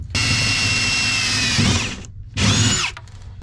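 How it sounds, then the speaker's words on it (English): A power drill with a 1/4 inch bit whines loudly at steady speed, dropping pitch as it bites, stopping briefly, then running again in a shorter burst. "This is a, looks like a 1/4 inch drill bit."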